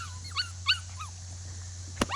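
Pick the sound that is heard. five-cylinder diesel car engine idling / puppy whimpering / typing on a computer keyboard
puppy whimpering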